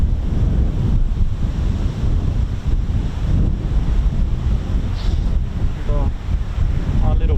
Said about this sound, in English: on this rather windy day here at Marham